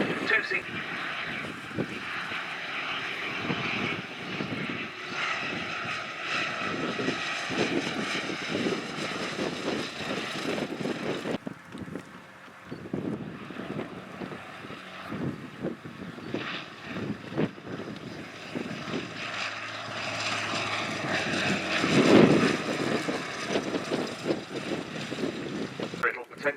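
A Bristol Blenheim warbird flies overhead at the Duxford Battle of Britain airshow, its propeller engines droning steadily at a distance amid wind noise while a commentator talks over the sound.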